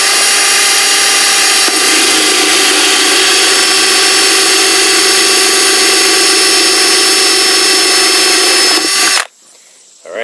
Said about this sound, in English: I was letting the drill do the sawing